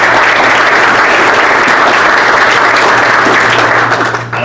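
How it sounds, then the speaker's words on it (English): A crowd at a Hall of Fame induction ceremony gives loud, sustained applause that continues for several seconds with no talking over it. "So one more round of applause,"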